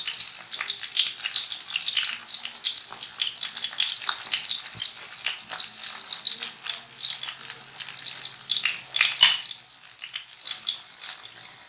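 Chapli kabab frying in oil over a low flame, a dense, steady crackling sizzle close by with occasional small pops throughout, no voices.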